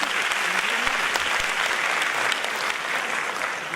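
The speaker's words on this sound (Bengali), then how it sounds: "ওদের জন্য জোরে হাততালি হয়ে যাবে একটা" A student audience at a large celebration event gives a loud, dense round of applause, a sustained wash of many hands clapping near and far with no gaps.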